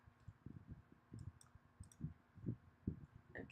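A computer keyboard key is pressed several times while working in Illustrator, giving soft, close clicks in an uneven rhythm over quiet room tone.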